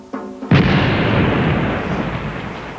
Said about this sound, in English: With modern cannon, they bombarded the home capitals of the shishi in Satsuma and Choshu.